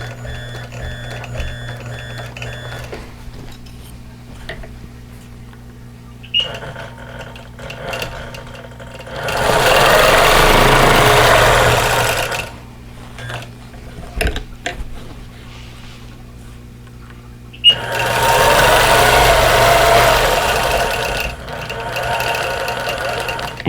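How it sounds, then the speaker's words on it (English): Sewing machine stitching quarter-inch quilting lines across a pillow cover made from a vintage quilt block, running in two steady bursts of a few seconds each, with quiet pauses between. "I'm going to do a couple of lines of quilting in here"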